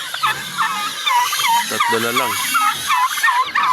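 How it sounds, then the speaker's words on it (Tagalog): Turkeys kept on a small farm gobble in quick warbling bursts, close and fairly loud, while someone speaks briefly over them. "Pabo natin, oh."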